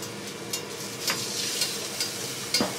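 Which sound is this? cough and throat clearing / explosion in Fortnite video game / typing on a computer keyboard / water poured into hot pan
water poured into hot pan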